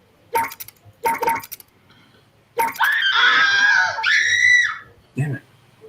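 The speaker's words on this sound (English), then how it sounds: "Horrible screams." Horrible screams ring out, a short burst of sharp shrieks followed by a long, loud, sustained wailing scream with a rising-then-falling pitch, and a final brief yelp at the end.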